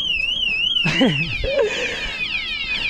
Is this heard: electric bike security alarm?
yes